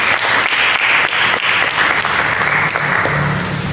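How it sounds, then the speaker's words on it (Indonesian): A church congregation claps steadily and loudly throughout, a dense continuous wash of applause with a few sharper individual claps standing out. "Mari kita berikan tepuk tangan."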